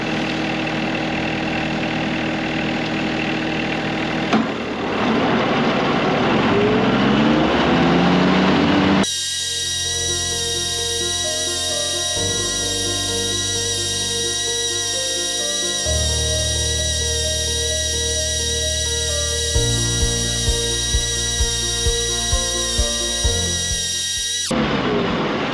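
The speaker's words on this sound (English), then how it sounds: "I'm going to get back to mowing" Riding mower engine running steadily while mowing, a loud continuous drone with a high whine, shifting in pitch partway through as the load changes, with a few faint clicks near the end.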